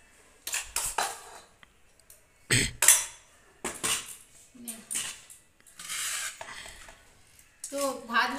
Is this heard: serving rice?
yes